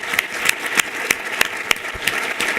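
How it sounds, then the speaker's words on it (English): Applause from a conference business meeting audience, moderately distant and fairly soft, with a steady spread of clapping and a few sharper individual claps standing out at a loose rhythm. "Please, let's give a round of applause to Jim Neal"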